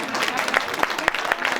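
An audience clapping at a Mithila community annual celebration in Goa, a dense wash of applause with some sharper individual claps standing out, and a voice faintly under it.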